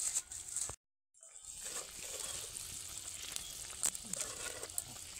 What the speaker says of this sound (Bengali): এবার ভেজে রাখা মাছগুলো একে একে দিয়ে দেব।